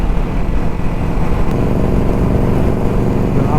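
Superbike ridden on a road, its engine a loud, steady roar mixed with heavy wind rush throughout, with no talk.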